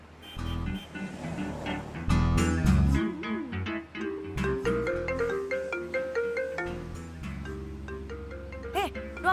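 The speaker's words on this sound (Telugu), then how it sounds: "ఫోన్ పక్కన పెట్టే బాబు ఇప్పటికే తొంభై తొమ్మిది సార్లు చేశాడు" A mobile phone rings with a repeating melodic tone in a Telugu film scene, sounding over voices and background music.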